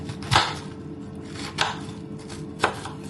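A knife chops through firm raw pork on a cutting board, three sharp, distinct strikes spaced unevenly, close and fairly loud with quiet gaps between.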